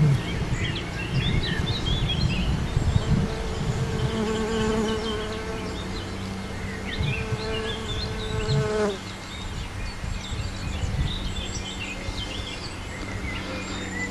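Western honeybees buzzing steadily and close, a dense continuous drone with overlapping wingbeat tones, alone without any talking.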